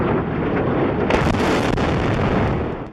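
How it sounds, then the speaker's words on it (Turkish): Deep, rumbling blasts of wartime explosions in Aleppo roll through continuously, heavy and loud, with a sharper burst partway through, like distant explosions echoing. "Halep'te Ramazan ayında dahi patlama sesleri bitmek"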